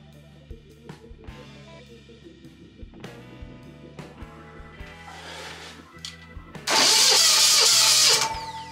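An electric starter spins a diesel walk-behind tractor engine, a few short whirring cranking attempts followed by the engine catching and roaring loudly near the end.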